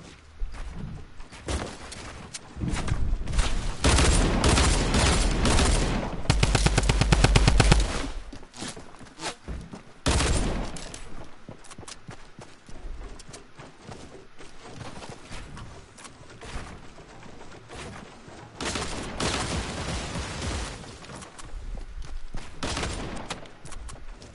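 Drum gun in Fortnite fires in long rapid bursts, loud and close, with pauses between volleys and some quieter shots and footsteps in the gaps.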